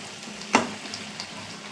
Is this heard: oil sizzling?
yes